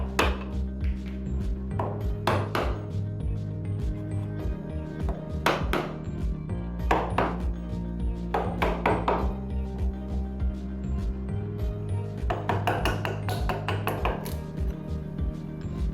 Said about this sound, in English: the rest of the material can be chiseled out in one go